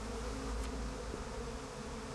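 Bees buzz steadily in the video game Psychonauts 2, a close, continuous insect drone holding through the whole moment with no voices over it.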